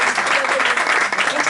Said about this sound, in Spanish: lo que te mereces es un aplauso enorme